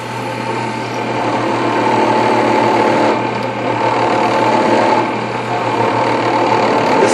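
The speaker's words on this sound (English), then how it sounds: "I'm basically going to move the piece around and use this as a milling cutter to mill out the sections that I don't want." A rotary milling cutter mills out wood for an inlay, giving a continuous steady whirring buzz with a slight rhythmic flutter, loud and close, with no talk.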